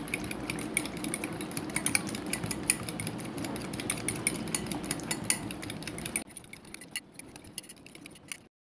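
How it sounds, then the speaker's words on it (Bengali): Fish finger ingredients, including a pinch of salt, being mixed in a bowl, with a steady run of small clinks and scraping taps that stop abruptly near the end, leaving a quiet tail. "এখন ভিউয়ার্স, এই ইনগ্রেডিয়েন্টসগুলোকে আমি মিশিয়ে নেব।"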